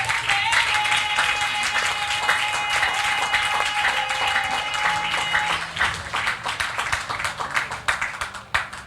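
An audience claps for newly introduced monitors at a Christmas gathering, a sustained wash of applause with a held musical tone and some voices early on, the clapping becoming more scattered toward the end.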